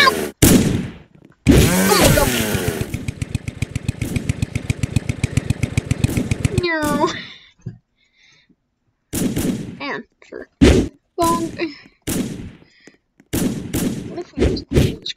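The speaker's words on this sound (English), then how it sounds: "Oh, that's a grenade!" Rapid gunfire rattles in a video game, a long machine-gun burst followed by sharp bangs and scattered blasts that could include a grenade explosion, close and loud, interrupted by a player's excited voice.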